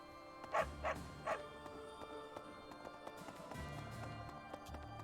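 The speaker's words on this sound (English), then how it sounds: "Is that dog on the bench?" A dog on a bench in Fire Emblem: Three Houses gives three quick, sharp barks close by, then quieter yips and whimpers over soft background music.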